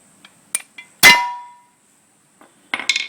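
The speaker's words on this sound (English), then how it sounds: "You just got to bash the seal out without hitting anything else here. So, trusty hammer." A few metallic taps, then one loud ringing clang that decays slowly, followed by a short cluster of sharper metal knocks, as a hammer bashes out the clutch cover oil seal on a Suzuki GS500 motorcycle.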